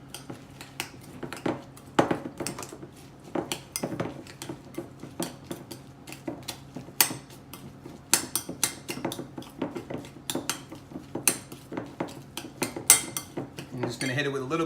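Ingredients for a keto recipe being beaten together in a bowl, with a fast, uneven run of clinking utensil strikes against the bowl's sides, close and fairly crisp, continuing for the whole stretch with no talking.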